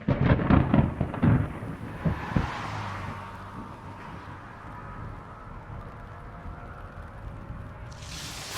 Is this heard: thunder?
yes